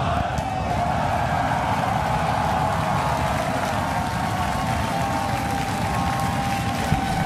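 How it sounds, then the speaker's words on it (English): A SpaceX Starship rocket lifts off with a deep, continuous roar and broad rumble, loud and steady throughout with no voices over it. "We have liftoff."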